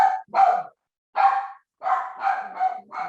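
A dog barks in a rapid run of loud, close yelps and barks, bursts clustered in short groups with brief pauses between them.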